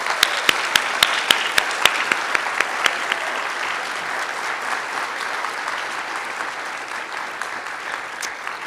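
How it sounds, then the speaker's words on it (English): An audience at a debate event applauds the speakers, dense steady clapping from many hands that stays fairly loud throughout, with sharper individual claps standing out early on. "Let's have a round of applause for our speakers this evening, Erin Fogg and Seth Drayer."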